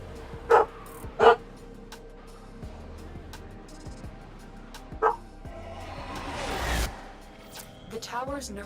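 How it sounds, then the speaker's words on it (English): A dog barks in the background in a few sharp, separate yaps, mixed with game sounds and some talking. "My dog is going nuts."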